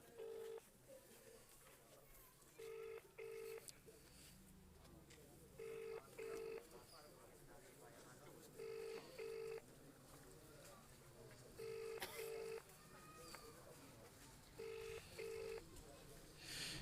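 An unanswered phone call rings back in repeated double pulses, six evenly spaced pairs about three seconds apart, faint and thin over low background noise.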